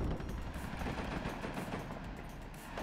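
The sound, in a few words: units firing weapons at a position in WARNO video game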